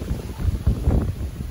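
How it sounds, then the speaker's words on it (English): Strong wind in Pemberton buffets the microphone in low, rumbling gusts that rise and fall steadily, with no voices. "it's super windy now."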